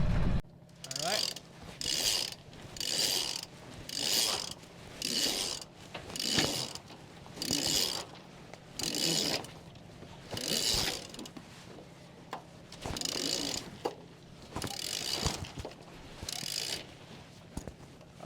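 The mainsail on a small sailboat is hoisted by hand in a series of about a dozen rhythmic ratcheting pulls of the halyard through blocks, each burst separated by a short pause, close and clear over faint wind.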